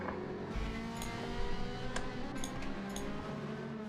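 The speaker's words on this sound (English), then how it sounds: "So now we have the lovely noise of the car engines," A steady, droning engine hum with a whining tone holds throughout, Gr3/Gr4 race car motors running continuously at Trial Mountain in Gran Turismo 7, with faint ticking on top.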